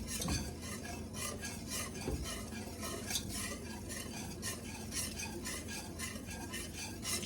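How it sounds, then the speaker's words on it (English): Whisk beating steadily against the sides of a pot of cheddar-beer sauce, a continuous close scraping and clinking rhythm with no talk. "Keep slowly adding that in and keep whisking it."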